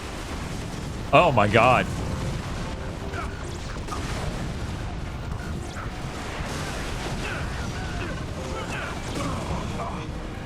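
Explosions and chaotic combat in the video game Resistance 2, a steady roar of booms and crashes filling the whole stretch, with a brief burst of excited speech near the start and scattered voices under the din.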